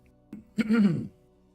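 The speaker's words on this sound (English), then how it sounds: "I bet all the coughing and clearing my throat." A single close throat clearing, a short rasp rising into a gravelly cough-like rumble, then silence.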